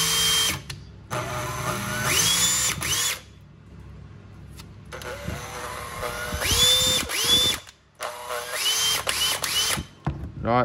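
A cordless battery-powered drill from a rechargeable tool kit runs in repeated loud bursts, whirring up and winding down with pauses of near silence between them, close and with no talk.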